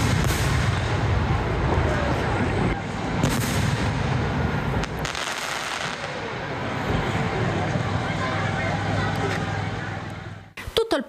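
Fireworks at the closing of a traditional village festival in Italy boom and crackle in a dense, continuous barrage, with loud bursts against a rumbling background and a voice speaking over it.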